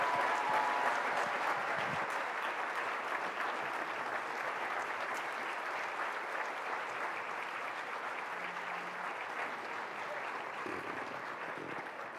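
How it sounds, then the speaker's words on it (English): A conference audience applauds keynote speaker Hill Harper, dense sustained clapping from a large crowd that carries on steadily and fades slightly toward the end. "Everyone, one more round of applause,"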